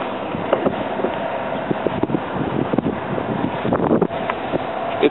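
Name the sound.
wind blowing outdoors around a car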